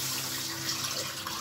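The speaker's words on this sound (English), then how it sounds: "Then I will add some water." Water poured from a tap or jug into a pot of salted yam pieces set to boil, giving a steady, close rushing and splashing flow.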